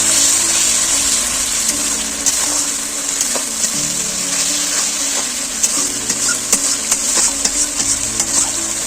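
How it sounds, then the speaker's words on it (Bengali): Spice paste for a rohu curry, loosened with water from rinsing the grinding stone, stir-fried in oil in a pan, giving a steady close sizzle with scattered clicks and scrapes of stirring throughout. "শিল ধোয়া জলটা আমি দিয়ে দিলাম। এবার এটা ভালো করে কষে নেব।"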